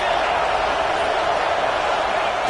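A stadium crowd roars steadily at a college football game between Texas and Georgia, making noise to fire up the defense for a red zone stop. The dense wash of sound holds constant throughout the short stretch.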